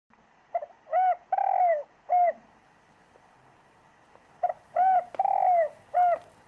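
A bird calls in two short bursts of soft, hooting coos, each a run of four or five notes, separated by quiet pauses.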